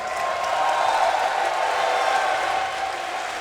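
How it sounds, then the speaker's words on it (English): A live crowd at The International in Benaroya Hall, Seattle, claps and cheers for Na'Vi and DK in a steady, roaring wash of applause with scattered whoops. "Crowd, make some noise for these two teams."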